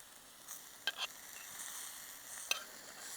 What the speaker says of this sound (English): One fun thing to do at the end is just give it some butter at the end.